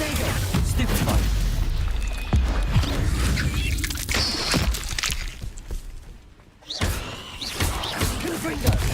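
Confringo and Bombarda spell blasts in Hogwarts Legacy, heavy booms and crackling bursts over continuous battle noise, with a short near-silent gap before the din resumes.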